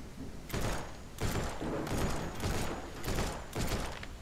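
Bursts of gunfire from the video game No One Survived, several loud volleys repeating roughly every second, close and dense with no talk over them.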